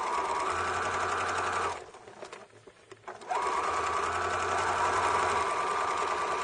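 Sewing machine running close and loud while stitching a pin cushion scrap bag, with a steady whirring hum that stops briefly in the middle and then starts again.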